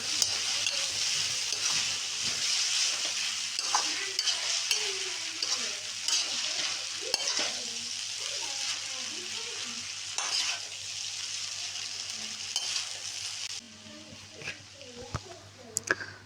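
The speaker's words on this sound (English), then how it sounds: "And now mix it well with the help of a spoon or a spatula" Chowmein noodles are stirred and tossed in a hot pan with a spoon or spatula, giving a continuous sizzle with soft scraping and occasional clicks, close up, while a voice talks over it.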